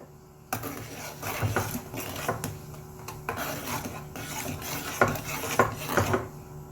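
Coconut-milk curry with prawns and bai liang leaves being stirred in a pot, a run of irregular scraping and clinking strokes of a utensil against the pot, fairly close and steady, with no talking.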